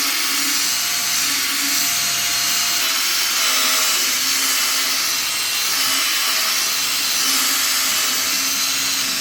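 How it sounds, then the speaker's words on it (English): A loud, steady high-pitched whir of a power drill polishing off-road vehicle paintwork runs continuously with a grinding, buffing hiss, close and unbroken throughout. "So I'm just using the drill and just going at it, doing a polish job."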